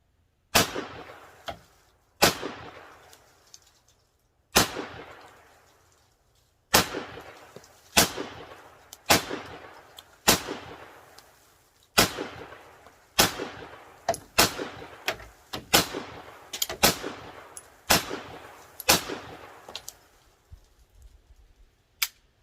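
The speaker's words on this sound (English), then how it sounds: "So, the M1 carbine, 30 caliber. I've always really enjoyed shooting the M1 carbine" An M1 carbine fires .30 caliber rounds at an outdoor shooting range. Sharp, loud single shots ring out at uneven intervals, some in quick pairs, each with a short echoing tail.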